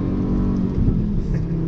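A Volvo V70R's turbocharged engine pulls hard under acceleration, a steady low rumble and whir heard from inside the car, loud and continuous with no talk over it.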